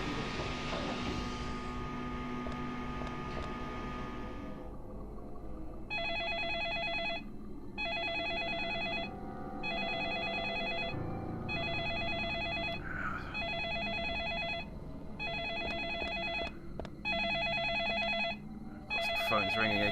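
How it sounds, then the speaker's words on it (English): Telephone ringing in the video game Deadly Premonition Origins, a bright electronic bell repeating in about ten evenly spaced bursts over a low rumbling background, preceded by a fading droning tone, no talking. "Phone's ringing again."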